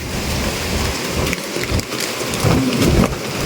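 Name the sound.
heavy rain and thunder during Typhoon Kristine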